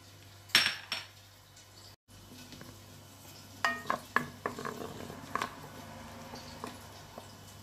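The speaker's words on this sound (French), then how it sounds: "Maintenant, je rajoute la tomate que j'ai coupée." Chopped tomato goes into a pot of hot oil with onion and garlic, landing with a few clinks of utensil against metal and a soft sizzle, then scattered scraping and stirring knocks, fairly quiet and close.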